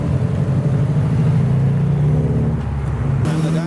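A Datsun pulls away from a Japanese car meet, its engine rumbling loudly and steadily close by as it moves off, with other traffic noise around it.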